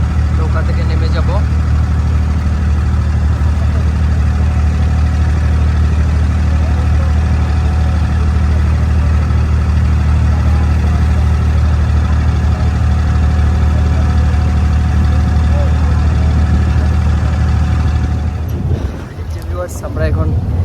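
A boat's engine idles at close range as a loud, steady low drone that runs unbroken before fading out near the end, with some faint background sound.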